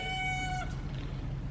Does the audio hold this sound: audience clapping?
no